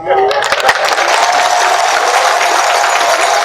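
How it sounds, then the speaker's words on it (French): A big political crowd gathered for Simone Ehivet Gbagbo breaks into loud, dense applause, with a few sharp claps up front before a continuous roar of clapping and cheering that holds steady to the end. "Les applaudissements là ne me suffisent pas."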